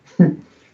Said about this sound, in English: My dog answered you.